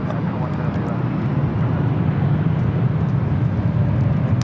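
A Boeing 757 airliner at LAX gives a steady, broad jet roar, loud and continuous with no clear change in pitch.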